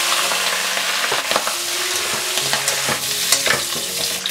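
Pork trotters sear in a hot wok with cooking wine, giving a steady close sizzle with stirring scrapes and small clatters of utensil against metal.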